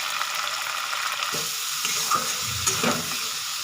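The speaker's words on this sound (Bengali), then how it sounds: "মশলাটাকে ভালো করে কষে নেব" Spices frying with Kashmiri red chilli powder for a potato and fish curry, a steady close sizzle of hot oil with a few stirring scrapes, no voices.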